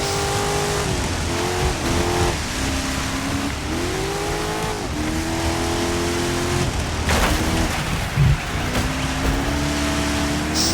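Engines of 1980s and 1990s rally cars roar together in multi-class DIRT 5 racing, a dense, loud, continuous drone with rising and falling revs as gears shift, and a brief thump near the end.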